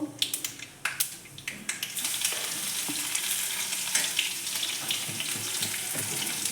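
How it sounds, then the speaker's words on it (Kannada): Mustard seeds and crushed garlic fry in hot oil in a pan, a few sharp seed pops at the start giving way to a steady, dense sizzle that fills the rest, with no voices. "ಸಾಸಿವೆ ಸ್ವಲ್ಪ ಚಟಪಟ ಅಂದಿದ ತಕ್ಷಣ ಜಜ್ಜಿಟ್ಕೊಂಡಿರೋ ಬೆಳ್ಳುಳ್ಳಿ ಹಾಕ್ಕೋಬೇಕು"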